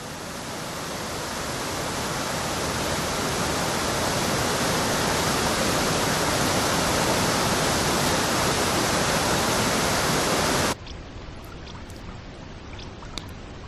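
A river flowing, heard as a dense, loud, steady rush of water that swells slightly at first and then holds, before dropping abruptly to a quieter background near the end.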